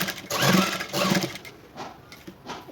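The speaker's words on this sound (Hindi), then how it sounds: "इस तरह से हम पूरे गोल गले पर ऐसे ही हम सिलाई लगाते जाएंगे" A sewing machine runs in short bursts, stitching lace around the round neckline of a designer choli blouse. Two louder runs come first, followed by quieter intermittent whirring.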